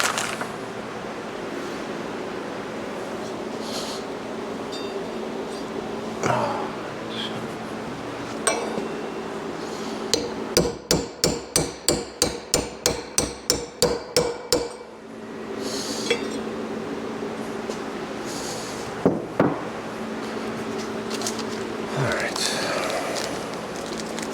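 Old bearings and a seal are hammered into a motorcycle wheel hub during chopper rear wheel prep, about a dozen sharp metallic strikes in quick succession mid-clip, with occasional clinks and someone talking before and after.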